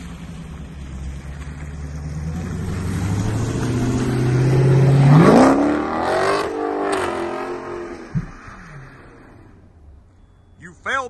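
Dodge Hellcat cars drifting at a zoo, with a loud roaring engine building to a peak, a sweeping pitch rise and screeching tyres, then dropping away under people talking and shouting nearby.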